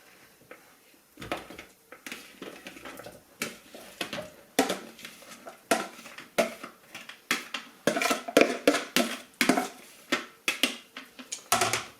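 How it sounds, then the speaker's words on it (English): A spoon repeatedly clatters and scrapes against a pot as chicken and vegetables with broccoli are stirred together, producing a steady run of close, sharp knocks that grows busier and louder toward the end. "So now we're just going to give that a really good stir."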